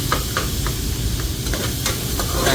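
Salt being stirred into a fish curry mixture in a pan, with a steady scraping stir over a continuous sizzle and faint hiss, near and moderately loud, no talking.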